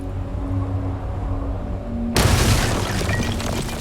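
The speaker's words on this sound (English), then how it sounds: "I knew I could throw a grenade." A sudden, loud grenade blast in the video game Starfield cuts abruptly over a steady background hum, followed by a broad rumbling tail that lingers to the end.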